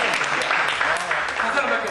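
Applause from a lecture audience at a church mission talk, a steady wash of many hands clapping at moderate loudness, blended with speech throughout the short burst.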